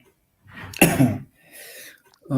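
A single sharp sneeze bursts out nearby after a short intake of breath, with a soft exhale trailing after it and a voice starting up just as it ends.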